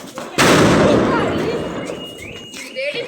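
A firecracker rocket that fails to fly up bursts with a sudden loud blast, then crackles and hisses as it fades, followed by faint whistling squeals while people talk nearby.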